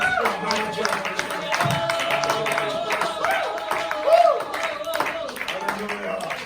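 A church congregation claps in acclamation, a steady run of many hands clapping together under a preacher's voice and worship music.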